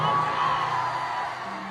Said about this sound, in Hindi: मैं चाहता हूं खोखंडा के लिए एक जोरदार हल्ला करके ताली बजाइए